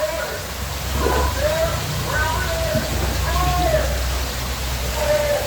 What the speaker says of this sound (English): all 5 fountains are working